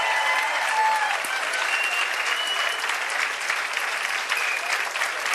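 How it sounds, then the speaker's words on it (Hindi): An audience claps loudly and steadily in a dense, continuous wash that holds at a constant level throughout, with a faint voice underneath. "जोरदार ताली बजाओ।"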